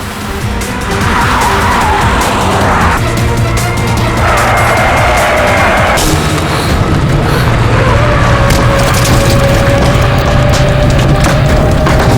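A car revs and speeds off fast during a tense chase scene in a Hindi crime drama, engine roaring loud and close with tyre noise and steady music underneath for the whole stretch.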